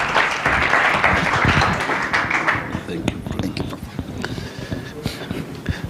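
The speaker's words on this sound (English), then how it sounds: "Let's give our MMC a wonderful round of applause" An audience at a technology conference claps loudly in a brief burst of applause that fades after a couple of seconds, followed by scattered taps and light room noise.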